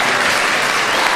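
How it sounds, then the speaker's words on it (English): Church audience at a Sunday morning service applauding, a dense, even wash of clapping from many hands for the whole moment. "Give yourselves a round of applause."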